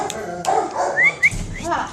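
Two Carolina dogs bark and whimper nearby in short yips and whines, mixed with a person talking.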